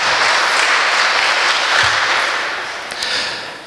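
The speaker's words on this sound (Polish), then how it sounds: "te brawa są dla Pana." A hall audience at a 50th-anniversary school sports centre gala applauds its founding director, dense sustained clapping that fills the room and tapers slightly toward the end.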